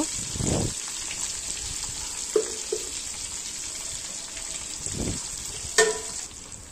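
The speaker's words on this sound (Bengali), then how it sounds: "এখানে আমি চুলায় একটা কড়াই নিয়ে পরিমাণ মতো তেল নিয়ে মাংসগুলোকে 2 ব্যাচ করে ভাজবো" Beef pieces frying in oil in a wok for beef koab, giving a steady crackling sizzle with a few soft bursts and one sharp clack of a utensil partway through.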